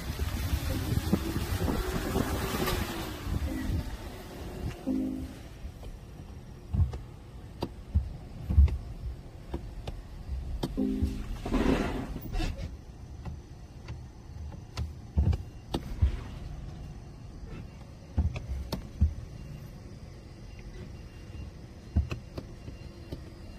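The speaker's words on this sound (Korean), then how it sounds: "BMW i3 주행 영상." A BMW i3 electric car drives along with a quiet hum, tyre and road rumble, and wind noise, with a few louder whooshing swells and small knocks along the way.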